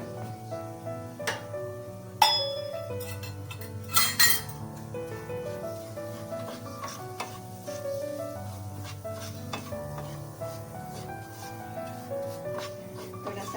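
Fine semolina roasts in ghee in a pan while a spatula stirs it, giving scattered clinks and scraping over steady background music, with a few louder knocks against the pan.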